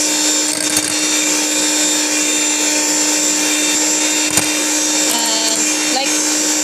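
An electric mixer whips heavy cream into whipped cream with a loud, constant motor whine close by, the beaters occasionally knocking faintly against the bowl.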